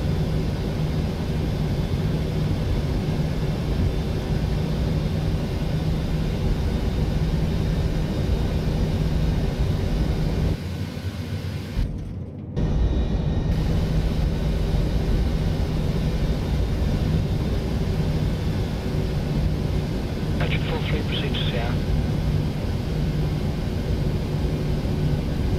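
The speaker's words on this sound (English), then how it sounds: "I'm going to let you listen to the aircraft for now" Steady aircraft engine drone from a plane taxiing in Flight Simulator X, continuous and loud throughout with a brief dip midway, no talking.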